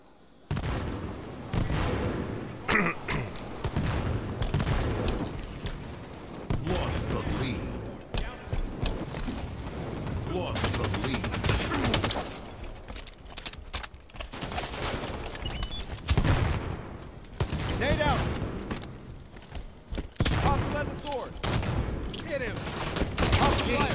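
Rapid SMG bursts from Halo 5: Guardians beta multiplayer, repeated fast-fire volleys with loud gunshot clusters throughout, mixed with other game effects and a player's voice talking over the action.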